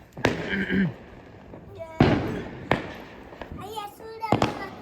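Diwali firecrackers and sky shots go off in several sharp bangs and crackling bursts spaced a second or so apart, some with whistling tails, as family members chat and react between them.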